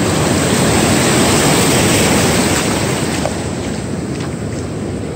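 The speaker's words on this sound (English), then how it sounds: "And let the waves wash back out." Ocean waves wash back out on a sandy beach where sand crabs are dug, making a loud, steady rushing surf roar with wind buffeting the microphone throughout.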